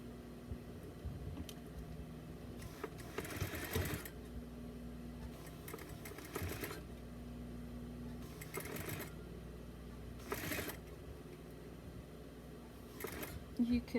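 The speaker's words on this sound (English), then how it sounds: "So you're gonna start sewing it like this right here at 1/8 of an inch" A home sewing machine runs in several short stitching bursts while sewing a Smart Doll bodysuit, fairly quiet and steady, with a person talking between the runs.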